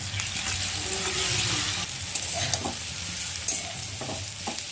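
Onion and tomato frying in oil with cumin and bay leaf, a close steady sizzle with scraping stirs and occasional spatula knocks against the pan, no speech.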